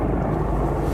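A helicopter searching a forest at night rumbles overhead, a low, steady, throbbing roar filling the brief moment.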